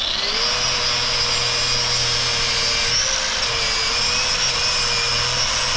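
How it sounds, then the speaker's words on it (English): An angle grinder cleans up a welded metal repair, whining loudly and continuously at close range with a high steady pitch that dips slightly as it bites into the metal. "All right, let me get my grinder out."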